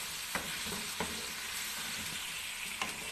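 Chicken jalfrezi ingredients fry in a pan with a continuous bright sizzle, broken by a few soft stirring taps spaced about a second apart, close and with no voices.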